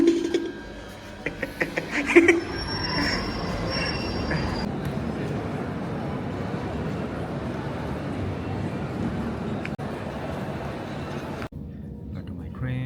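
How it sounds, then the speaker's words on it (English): A train runs along the rails with a steady rumbling roar and some wheel squeal, heard from on board; a few brief voices and knocks come at the start before the even running noise takes over. "Got to my train and now heading back home."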